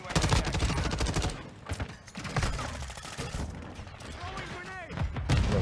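Rapid bursts of automatic gunfire from a 556 Icarus in Call of Duty MW2, dense stuttering shots coming in waves with brief gaps, mixed with a player talking over the action.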